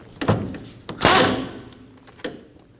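Wheel hub bolts snugged up one after another on the rear hub of a 2003-2006 Subaru Baja, giving a few close metallic clunks and a brief louder tool burst, alone with no talk.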